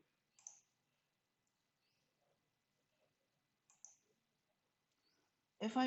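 Computer mouse clicks during work in simulation software, a few faint, sharp isolated clicks spaced apart in a quiet room, followed by a short louder burst.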